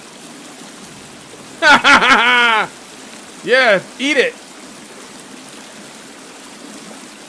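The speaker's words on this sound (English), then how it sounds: "Yeah, there is water down there." A steady, soft rush of flowing water from the survival game The Forest runs underneath, while someone speaks in two short bursts over it.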